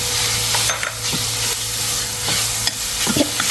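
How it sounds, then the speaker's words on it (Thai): Pork pieces and eggplant stir-fried in a pan sizzle loudly and continuously, with scraping and clattering stirring strokes repeating throughout, close up. "คั่วจนชิ้นหมูให้มันสุกดีพุ่นแหละเนาะ"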